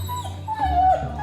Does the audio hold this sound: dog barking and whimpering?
yes